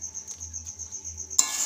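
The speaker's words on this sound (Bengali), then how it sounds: "অনবরত নাড়তে থাকবো আরও 5 মিনিট।" A spoon stirs spices in a cooking pan over medium heat, with a soft steady scraping rhythm and a faint high sizzle throughout, then a brief louder clink and burst of frying near the end.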